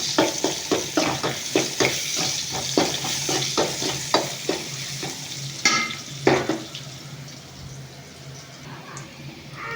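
Onions frying with salt in a pan for okra fry, close and fairly loud, with a rapid rhythmic run of spatula scrapes over a steady sizzle before the stirring slows and the sizzle settles.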